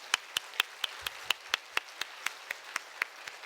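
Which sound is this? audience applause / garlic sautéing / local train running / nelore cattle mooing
audience applause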